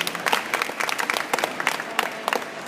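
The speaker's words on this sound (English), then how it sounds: "Round of applause, everybody." Audience applause at a wedding-themed presentation, a burst of lively clapping from a modest crowd, fairly close and uneven, lasting a few seconds with no talk over it.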